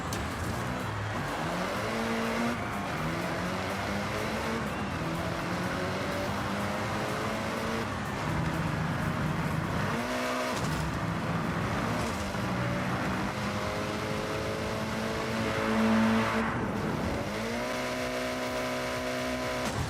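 Racing cars in a video game roar through drifts with rising and falling engine pitch and gear shifts, loud and continuous with brief tyre squeals throughout.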